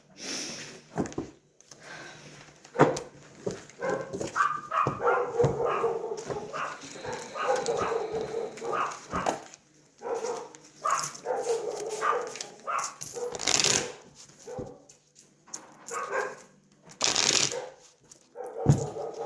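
A dog barks and yips in scattered bursts, fairly close, with shuffling and rustling noises between the barks.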